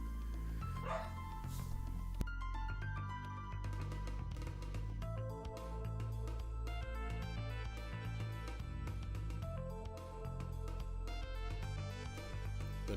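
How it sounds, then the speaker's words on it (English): A dog barks excitedly out in a hallway, a run of loud, rapid yaps and whimpers riding over steady background music with game sounds. "The noise was the dog barking in the hallway, losing his fucking mind."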